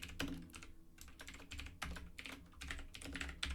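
Code typed on a computer keyboard: quiet, close key clicks in irregular bursts with short pauses between runs, heard alone.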